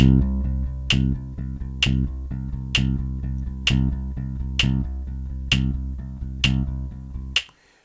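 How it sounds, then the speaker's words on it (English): An electric bass plays a steady stream of even sixteenth notes, deep and close, with a sharp click marking each beat before the last note cuts off. "first I start by playing usual 16th notes"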